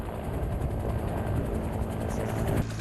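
An army Cobra attack helicopter at a gunnery competition gives off a loud, steady, close rotor thrum with a continuous engine drone that cuts off abruptly near the end.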